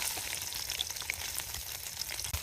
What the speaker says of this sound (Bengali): তেলটা গরম হয়ে গেছে চিংড়ি মাছটা মুই ভাজতে লমু